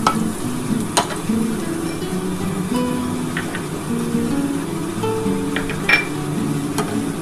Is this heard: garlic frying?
yes